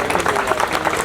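A crowd claps for a district chairman at a school dormitory handover ceremony, a short burst of dense, fairly close applause.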